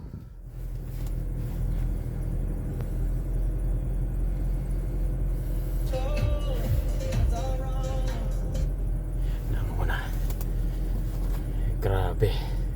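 Car engine running after a hard start in extreme cold in Saskatoon, Canada, a steady low rumble throughout with someone talking quietly over it.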